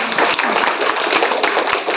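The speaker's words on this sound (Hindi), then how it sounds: "आप उनको फिर से एक बार तालियों से तारीफ करते हैं" An audience at a Mahashivratri spiritual gathering claps together in a dense, lively burst of applause, close and loud, with individual hand claps audible in a quick uneven rhythm and no talk over it.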